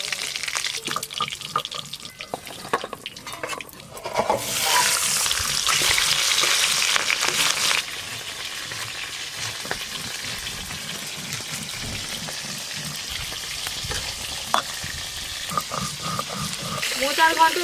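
Fish frying in hot oil in a home kitchen for a fish curry, a loud steady sizzle that swells and crackles, with occasional stirring and clinks and a voice speaking over it now and then.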